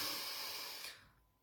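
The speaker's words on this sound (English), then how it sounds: "So big deep breath in through your nose." Slow, deep breath drawn in through the nose during a guided meditation, a soft close airy hiss that fades out near the end.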